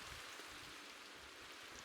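Steady rain falling in the Minecraft video game with shaders enabled, heard as a continuous, even hiss of moderate loudness throughout, with no voices.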